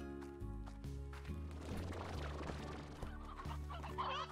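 Chickens cluck steadily in the video game Slime Rancher, with layered, repetitive game-animal calls over a constant synthetic background bed, continuous and fairly loud with no talk.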